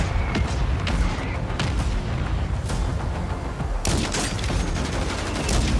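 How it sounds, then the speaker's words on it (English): Mortar strike in Call of Duty: Warzone, a rapid series of loud booming explosions and crackling gunfire-like blasts clustered together, dense and continuous, with a heavy burst of impacts near the four-second mark. "Oh, wait, my own mortar strike."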